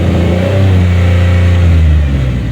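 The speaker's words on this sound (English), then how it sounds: "Even revving it to 4 grand" A 2007 Pontiac Grand Prix GT engine revs loudly to about 4,000 rpm, a high, sustained whine holding steady close by before easing slightly.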